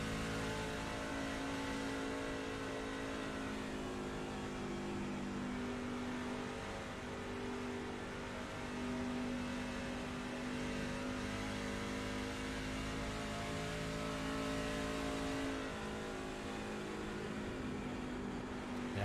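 A race truck engine heard from inside the cab in a racing video game at Dover, droning steadily with smooth rises and dips in pitch as the throttle changes. The sound is continuous and moderately loud, with no voices.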